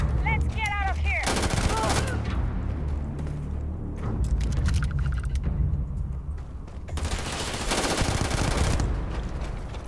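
Bursts of gunfire from the sci-fi shooter game Starfield, loud broadband volleys around the one-second and seven-second marks amid continuous game noise and mechanical clatter.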